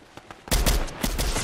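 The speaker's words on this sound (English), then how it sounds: "shotguns do work" Shotgun blasts in a Fortnite match: a couple of faint pops, then a burst of heavy, closely spaced booming shots with a few more blasts trailing after, loud and near.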